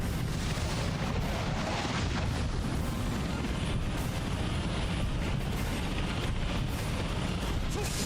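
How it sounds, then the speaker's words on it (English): A rocket launcher fires and explodes in a video game, heard as a continuous heavy rumbling blast with booming bursts that stay loud and dense for the whole stretch. "There goes another rocket launcher."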